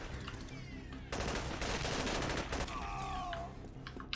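Rapid automatic gunfire in the video game SAS: Secure Tomorrow, dense bursts of loud close shots with a brief fuller volley in the middle and trailing ricochet-like whines, no speech.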